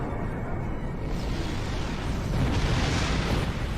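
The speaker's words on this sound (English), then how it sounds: "The Heralds are firing on the portal!" Heralds firing on a portal in Star Trek Online: a loud, continuous roaring barrage of explosive energy blasts and rumble, swelling stronger toward the end, with no speech.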